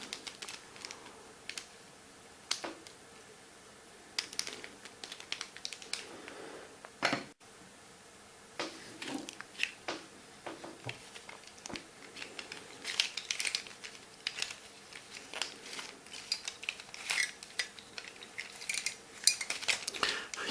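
A plastic 3x3 puzzle cube twisted quickly over and over, giving a steady stream of close clicks and faint springy rattles from its turning layers, with no voices.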